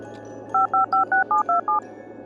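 Telephone keypad dialing tones play as a comedy sound effect: seven short, evenly spaced beeps, clear and close, in a quiet room.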